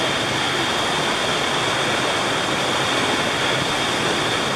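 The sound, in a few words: creek water flowing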